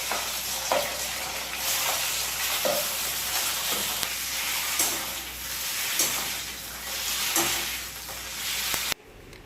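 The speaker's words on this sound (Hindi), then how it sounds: "सोया चाप को सबसे पहले मैं काफ़ी अच्छे से फ्राई करती हूँ 8-10 मिनट तक, एकदम लो फ्लेम पे" Soya chaap frying in a pan on a low flame gives a steady, close sizzle with faint stirring scrapes now and then, cutting off abruptly at the end.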